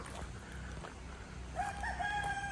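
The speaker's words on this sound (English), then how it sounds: "Those chickens are theirs." A rooster crows and chickens cluck outdoors in the woods of East Texas, the crowing rising clearly after a few seconds above a steady background of wind and ambient noise.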